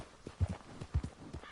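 Horse hooves clip-clop in Red Dead Redemption 2 as a horse walks toward a ranch, with several distinct low thuds in an uneven walking rhythm, fairly close and moderately loud, with no talk over them.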